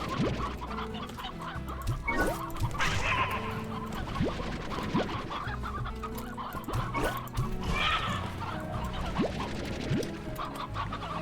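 Chickens cluck and murmur continuously in the video game Slime Rancher, a busy flock of overlapping fowl calls with occasional sharper squawks, steady and fairly close.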